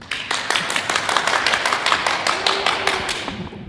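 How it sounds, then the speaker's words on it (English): A studio audience claps in a quick, even burst of bright, sharp hand claps, close and loud, holding steady for a few seconds before trailing off. "Applaud, vast studio audience."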